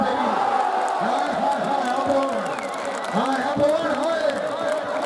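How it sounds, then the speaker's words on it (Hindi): A crowd claps and cheers at a thobi volleyball match, with continuous applause and whoops under a loud announcer calling out over the noise. "जोरदार तालियां"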